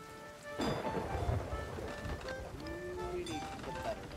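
Stormy weather at sea in Sea of Thieves brings a thick wash of rain and low thunder rumbling steadily, with a boom near the start and game tones and faint talk mixed in.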